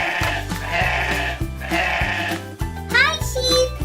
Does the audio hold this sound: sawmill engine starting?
no